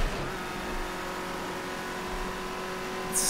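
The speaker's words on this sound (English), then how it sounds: "This car sounds like it's going really fast up the hill" A race car engine accelerates uphill at the Bathurst circuit, a steady droning roar heard from on board that holds at a sustained pitch, with a brief higher burst near the end.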